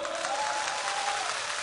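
Crowd applauding at a Thai political rally on Aksa Road, a steady wash of clapping sustained throughout without any talk on top.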